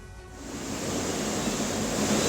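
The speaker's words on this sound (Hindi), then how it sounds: "तेज बारिश के बाद मंडी के सिराज में बरसाती नाले में उफान है।" A swollen rain-fed stream in Siraj, Mandi, Himachal Pradesh, rushes after heavy rain, producing a steady broad roar of fast water that grows slightly louder and continues unbroken.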